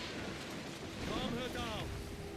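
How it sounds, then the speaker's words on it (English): Wind rushes steadily across open sea in Assassin's Creed IV Black Flag, a broad airy roar with the creak and slosh of a sailing ship, while a voice speaks briefly over it midway. "The wind's rushing us"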